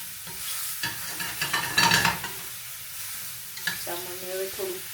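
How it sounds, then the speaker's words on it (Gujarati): Mushrooms fry in ghee in a pan, hissing steadily while a spoon stirs and scrapes through them in short bursts, close and clear with no talking. "તો આવી રીતે ખાલી ફ્રાય કરવાના છે"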